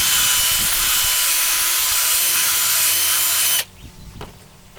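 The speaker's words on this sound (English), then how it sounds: "So you want to drill this out, sand it out" A loud, steady drill grinds continuously for several seconds through a plastic fitting on a downpipe first flush diverter tap, then cuts off abruptly, leaving a quiet scrape and faint handling noise.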